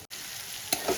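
Spice paste frying in hot oil in a pan for an eggplant bharta, with a short steady sizzle broken by a couple of scraping stirs.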